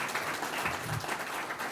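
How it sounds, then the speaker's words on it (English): Conference audience applauding in a hall at an African social entrepreneurship event, a steady dense wash of clapping held at moderate level for the whole short stretch, with no speech over it. "A round of applause, please."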